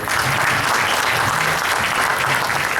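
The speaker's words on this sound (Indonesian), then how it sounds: "Beri tepuk tangan yang luar biasa sekali lagi buat Bapak Menko" A large audience at a corporate gathering gives loud, sustained applause, thick continuous clapping that stays level throughout with no speech over it.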